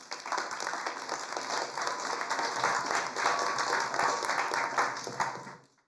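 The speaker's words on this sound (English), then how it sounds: "Let's give our panelists a quick intro round of applause." A conference crowd at COP 28 applauds panelists steadily for several seconds, a dense wash of clapping that holds level and then fades out at the end.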